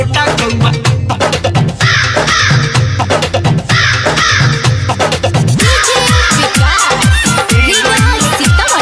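Crow caws repeated over and over as part of a loud devotional Bol Bam qawwali-style song, the harsh calls rising and falling in rhythm with the music throughout.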